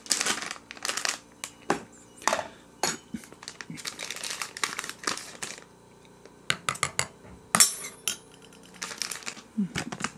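Kinako (roasted soybean flour) from the brand Style One being scooped with a tablespoon: a run of close, dry crinkling and clinking bursts, uneven and fairly loud, with short gaps between them and no talking.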